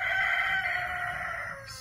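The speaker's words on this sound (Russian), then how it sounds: "Все, петух не даст поговорить." A farm rooster crows in a garden, one long, loud, drawn-out call near at hand that holds steady and then trails off, with no talk over it.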